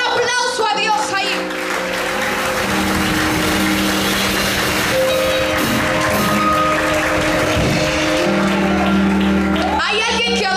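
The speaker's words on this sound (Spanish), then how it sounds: "Den un aplauso a Dios ahí" A church congregation applauds together at a nighttime service, steady broad clapping and cheering sustained for several seconds under a preacher's voice and background music.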